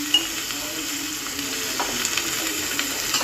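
Curry leaf chutney sizzling in a pan as it fries and is stirred, a continuous close crackle with faint scraping taps, no talking.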